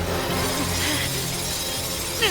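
A bright, crashing shatter of breaking glass with a synthetic game-like quality, followed by a short sweeping tail, no talking.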